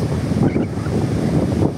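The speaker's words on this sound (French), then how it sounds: "La mer est furieuse." Rough stormy sea with heavy surf churning continuously under strong, gusting wind that buffets the microphone, loud and close throughout with no voices.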